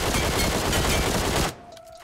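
Rapid automatic gunfire in the mobile battle royale game PUBG Mobile Metro Royale, a loud sustained burst that cuts off abruptly, leaving a faint tonal hum afterward.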